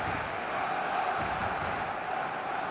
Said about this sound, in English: the noise is fervent, the atmosphere frenetic.